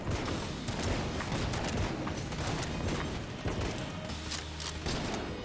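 Dense, continuous gunfire and mechanical weapon noise from Enter the Gungeon, a bullet-hell dungeon game, with rapid shots and occasional crashes filling the whole stretch at steady loudness.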